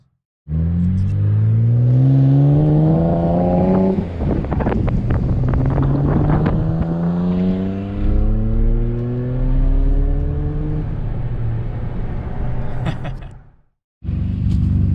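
A 2JZ-engined car pulls away from a traffic light, its loud rising engine note climbing through the gears with clear upshifts, wind buffeting the microphone, before cutting off abruptly near the end.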